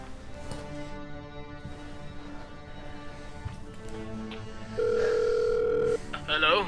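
A telephone dial tone plays as a call is placed to a friend, a steady single tone lasting about a second near the end, over a quiet room background.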